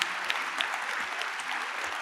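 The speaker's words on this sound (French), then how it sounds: "Applaudissements pour Jean-Marc Torolion." An audience at a professional conference applauds a speaker, with a steady wash of many hands clapping at moderate distance, even and continuous.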